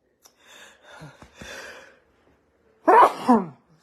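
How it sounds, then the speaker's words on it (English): A single loud sneeze bursts out in two quick harsh blasts near the mic, following a few soft breathy sounds and a sharp in-breath. "I'm going to sneeze here."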